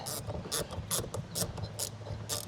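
A ratchet clicks in quick, even bursts, about six short runs, while the cover bolts on a 2026 Sea-Doo Spark Trixx jet ski are tightened. Up close and alone, with a low hum behind.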